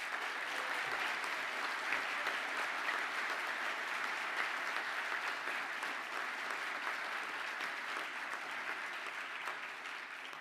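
A graduation ceremony audience gives a sustained round of applause for Manufacturing Engineering Design graduates, steady dense clapping filling a large hall without pause.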